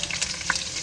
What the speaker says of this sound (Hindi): ये अब हम इसमें हरी मिर्च डाल देंगे।